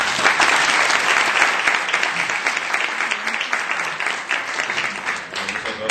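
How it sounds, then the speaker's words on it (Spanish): Audience applause greets a speaker at a university masterclass, dense sustained clapping that stays loud and steady before tapering slightly at the end. "Muchas gracias por aplaudir."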